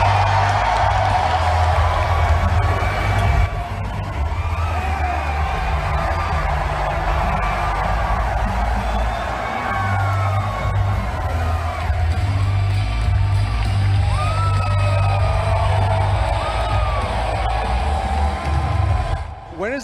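A large crowd at a live event cheers, whoops and applauds loudly and without a break, greeting Alex Jones, with yells rising out of the steady roar.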